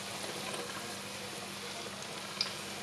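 Batter frying in hot oil in a pan while cooking Vietnamese fried bananas: a steady, soft, even sizzle and crackle throughout, fairly quiet and without speech.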